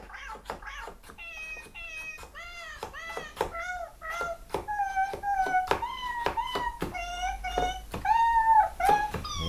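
Repeated electronic cat meows from a cardboard Nintendo Labo toy piano in a steady sequence of short, bright tones, close and fairly loud, with no talking.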